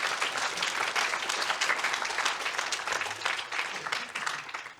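Audience applause for a speaker named Mathilde at a screening event on nature protection and ecological restoration, a dense, even burst of many hands clapping close by, lasting a few seconds without talk.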